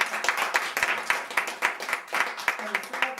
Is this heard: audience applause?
yes